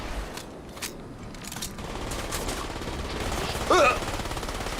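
Several sharp gunshot bursts crack out early in the video game Crysis, including a bazooka shot, followed by scattered shots and a brief electronic tone, fairly quiet overall.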